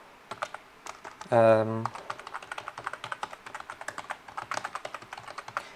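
Keys clatter steadily on a computer keyboard while an email address is typed during sign-up on a setup website, with one brief spoken word near the start and fairly quiet, rapid tapping throughout.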